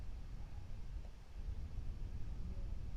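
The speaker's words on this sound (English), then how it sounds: "This is white noise." A steady, low, muffled hiss of synthesizer white noise through a filter, dark and rumbling rather than bright, holding evenly throughout.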